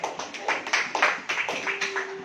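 A church congregation claps in a burst of sharp, uneven hand claps that repeat through a short stretch at moderate loudness, with no talk over them.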